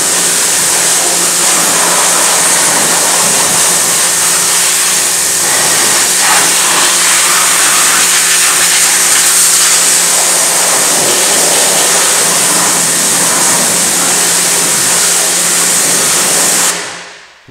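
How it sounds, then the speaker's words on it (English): A water spray hisses steadily and loudly up close, rinsing cleaning product off a car wheel rim during detailing, continuous for most of the stretch before cutting off abruptly. "We're just going to rinse all the product off the rim."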